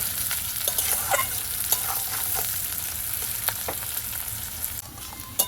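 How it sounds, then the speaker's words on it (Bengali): Chopped onions fry in hot oil in a pan, a steady close sizzle broken by regular scraping stirs of a spatula, no voices. "পেঁয়াজটা আমি ভালো করে ভেজে নেব"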